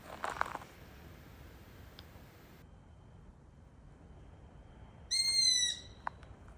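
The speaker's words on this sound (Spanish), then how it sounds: "Sonaban como si fuera un pájaro pequeño que estuviera herido." A short, high, squeaky call like a small injured bird, in a few quavering pulses, rises out of a quiet night background near a campsite on Crete, faint at first, then clearer.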